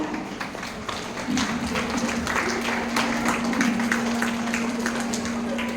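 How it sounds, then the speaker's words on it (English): Applause for children at a school Nature Conservation Day event: scattered clapping from a crowd, moderately loud and sustained, over a steady hum. "Excellent children, a big round of applause."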